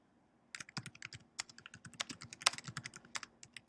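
Typing on a computer keyboard, a close run of quick irregular key clicks starting after a short silence and continuing steadily to the end.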